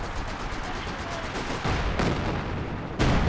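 Howitzer artillery firing in Company of Heroes 2, heard as a couple of heavy booming reports at intervals over a steady battlefield din of distant gunfire.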